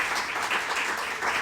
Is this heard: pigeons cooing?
no